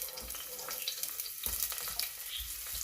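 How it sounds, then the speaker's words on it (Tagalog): Onion sautéing in hot oil in a pan for a native chicken stew, a steady close sizzle and crackle with faint stirring scrapes throughout. "Yeah, so oil is already hot. It's time for me to put the onion."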